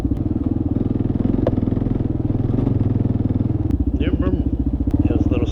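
A Kawasaki KLR650 motorcycle engine pulses steadily, close and loud, as the bike accelerates along a dirt track, and a voice speaks briefly near the end.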